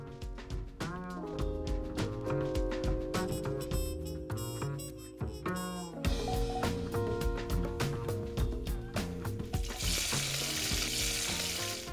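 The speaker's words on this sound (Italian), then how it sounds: "E prepariamo un soffrittino d'aglio." Garlic fries in oil in a pan with a steady, close sizzle, overlaid by loud melodic background music throughout.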